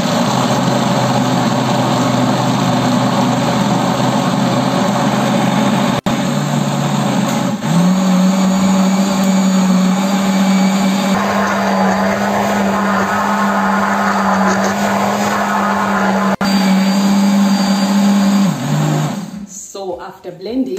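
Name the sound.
Philips blender blending soybeans into soya milk for tofu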